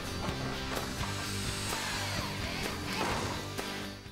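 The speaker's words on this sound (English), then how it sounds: "mark the joint to the hip capping and cut" Steel roof hip capping being cut with a tool, a steady harsh cutting noise with recurring sharp clicks and knocks, close and continuous for several seconds with no talking.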